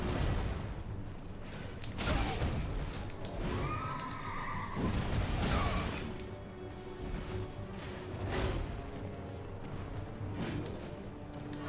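A horse neighs during a mounted fight in the video game Elden Ring, a rising whinny standing out around the middle against dense combat clatter, impacts and game music that continue throughout.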